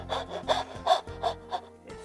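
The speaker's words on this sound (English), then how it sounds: "is saw between the scribe marks" Hand saw cutting a dovetail in wood held upright in a vise, working between scribe marks: steady back-and-forth rasping strokes, about six close, clear strokes in quick rhythm with no talking.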